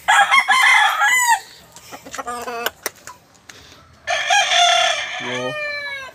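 Fighting roosters on a gamecock farm crow loudly and close by, several long cock-a-doodle-doo calls with clucks in between, and brief human voices and exclamations between the calls.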